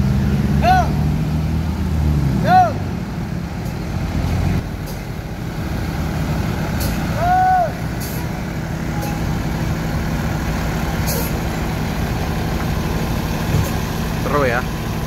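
A bus idles with a low, rumbling engine while reversing, joined by brief air-brake hisses and a few short rising chirps scattered through. Voices are heard nearby.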